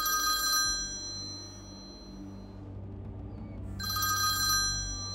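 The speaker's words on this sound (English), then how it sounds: "my phone's going off now" A telephone rings in a Minecraft game, two bursts of bright electronic ringing separated by a quiet pause, over a steady low background hum.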